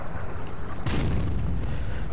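A heavy tank cannon blast in a video game booms out partway through, followed by a rumbling roar over continuous low engine noise.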